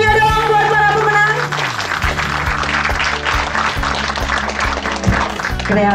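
Applause for the winners at the Riding With Style Awards 2019 ceremony, a steady wash of clapping from a crowd lasting throughout, with background music playing under it.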